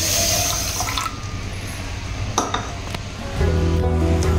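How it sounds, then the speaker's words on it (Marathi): Half a cup of water poured into sugar for syrup, a short splashing pour into a pan, followed by a clink of utensils and a lower rumbling wash near the end. "अर्धा कप पाणी घालूया।"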